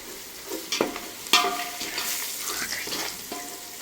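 Chicken frying with mandi masala, salt and turmeric in a pan, a low sizzle with a spoon stirring and scraping, a couple of sharp metallic knocks against the pan, close up.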